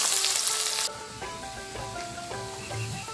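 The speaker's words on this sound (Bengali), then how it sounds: "এখন উঠানো দিয়ে দিব তেজপাতা, অল্প রসুন কুচি, পেঁয়াজ কুচি" Bay leaf, chopped garlic and onion dropped into hot oil after frying fish: an intense loud hiss at first that quickly settles into a softer, steady sizzle with light stirring and faint clinks, no talking.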